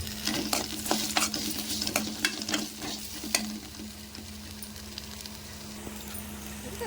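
Coriander seeds and coconut frying in a pan make a continuous sizzle with repeated scraping and stirring knocks, close and steady under a low hum, with no talk.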